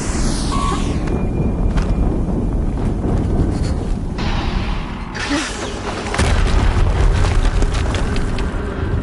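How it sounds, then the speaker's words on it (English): Explosions in the video game Horizon Zero Dawn fill the scene with a dense, booming roar. Crackling blasts sound throughout, with a stronger surge of rumble near the end. "Another explosion."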